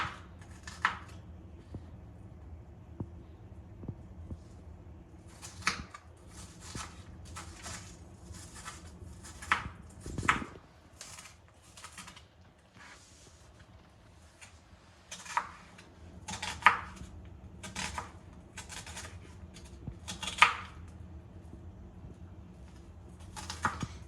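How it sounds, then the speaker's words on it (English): Knife chopping sweet potato or mushroom into small pieces on a cutting board, a run of sharp irregular taps spread through the clip with quieter gaps and a soft background hum. "I cut small pieces."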